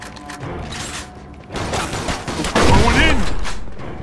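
Gunfire in the crime video game Mafia 2 bursts out as sharp shots and mechanical clatter, growing louder and denser toward the middle, with game sounds layered underneath.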